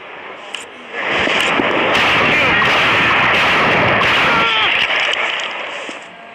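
Gunfire in a gangster-style open-world shooter game, a dense sustained burst of shots and blasts that swells in suddenly and fades toward the end, loud and close.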